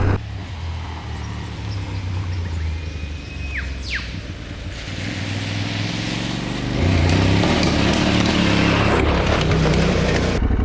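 An Aprilia Tuareg 660 motorcycle rides over bumpy terrain, its engine droning steadily and rising in loudness partway through, with wind rush and occasional jolts, recorded close from the rider's position.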